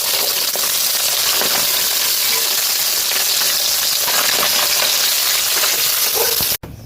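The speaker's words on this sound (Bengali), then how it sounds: "প্রথম করে মাছগুলো ভাজা হয়েছে" Fish sizzles loudly and continuously in a frying pan, a dense close-up hiss of hot oil that holds steady and then cuts off abruptly near the end.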